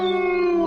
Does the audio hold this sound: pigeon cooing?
no